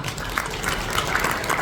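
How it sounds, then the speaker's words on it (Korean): A brief, dense burst of steady clapping comes from guests at a breakfast seminar forum, crowded and continuous throughout. "박수 한번 쳐주십시오"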